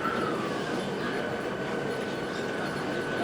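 Steady rumbling rail noise with a faint high squeal running through it, as a train idles or rolls slowly through a railway station in Bengaluru, India.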